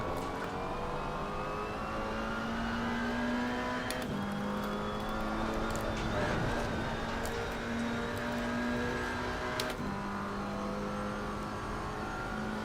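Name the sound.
McLaren 570S race car engine at Paul Ricard, Assetto Corsa Competizione video game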